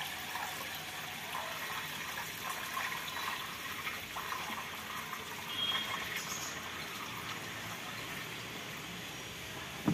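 Water filling a betta fish tank as it rises, a steady close gushing flow holding at an even level throughout, with no talking.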